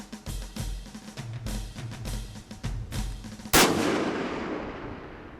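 A rifle shot fired at a target on a shooting range, a single sharp loud crack with a long decaying echo after a stretch of louder low rumbling noise.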